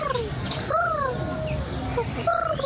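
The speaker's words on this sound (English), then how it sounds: "a bird native to Asia, and the calling sounds" A blue-tailed bird native to Asia calls in Disney's Animal Kingdom, giving several clear rising and falling whistled notes in quick bursts over a steady ambient park background.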